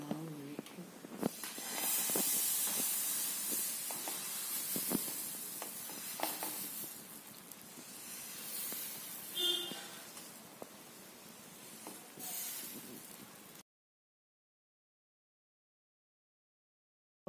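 Wheat aloo porotta liquid batter poured onto a hot stone dosa griddle gives a steady close sizzling hiss with small crackles, running for about fourteen seconds before stopping abruptly.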